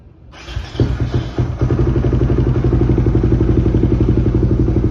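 A motorcycle fitted with an Aracer RC Mini X ECU cranks briefly with a few clattering thumps, then catches and settles into a loud, steady, close idle with no talk.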